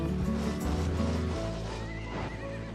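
A horse whinnies loudly in a video game with a rising then falling neigh, accompanied by steady clip-clop hoofbeats and layered game sounds throughout.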